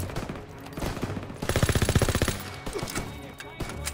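An AK assault rifle fires a rapid, loud, close automatic burst in the World War II shooter Call of Duty WW2, set among other game sounds.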